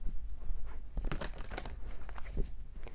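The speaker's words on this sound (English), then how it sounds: "Let's do one more shuffle." Tarot cards shuffled by hand, a steady papery riffling and crinkling close up, continuous and fairly quiet with no talking.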